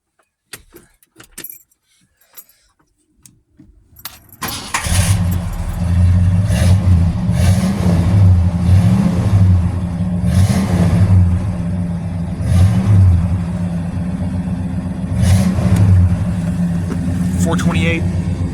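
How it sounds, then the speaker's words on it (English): Dual exhaust of a 1968 Mercury Park Lane Brougham with a 428 big block V8 starts up after a few seconds of handling noises, then settles into a loud, steady, rumbling idle close to the microphone. "see if you can hear the exhaust"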